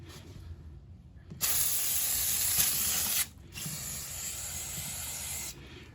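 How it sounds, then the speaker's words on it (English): Brake parts cleaner sprays from an aerosol can onto a Husqvarna/KTM four-stroke motorcycle engine in a garage. Two long, loud, close hissing blasts are separated by a short pause, with no talking. "We're gonna give all that a spray down, let it dry so we can see where the oil is actually coming from"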